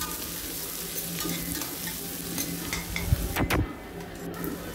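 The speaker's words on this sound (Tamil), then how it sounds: "எல்லாத்தையும் நல்லா வதக்கிக்கோங்க" Onions sautéing in a pan for Tamil mutton bone curry, a soft steady sizzle with scraping stirs and a couple of sharper clanks of a utensil against the pan.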